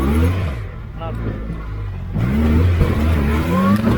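A homemade 4x4 buggy's engine drones loud and close, rising as it accelerates with some tire noise, while a voice shouts over it.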